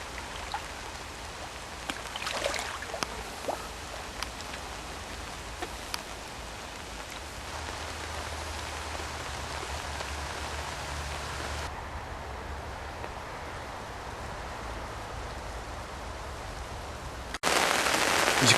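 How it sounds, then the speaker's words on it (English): Heavy rain patters on a fishing umbrella during an early-winter carp session, giving a dense and steady hiss with scattered louder drops. A sharp burst of noise comes at the very end. "it's raining quite heavily now"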